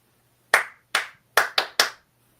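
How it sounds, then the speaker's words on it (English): Five sharp hand claps ring out close and loud in an uneven rhythm, two spaced claps followed by a quick run of three, with silence between them. "You get the Mick Jagger clap for that."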